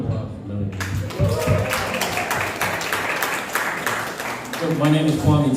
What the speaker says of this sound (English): One more round of applause for Melanie.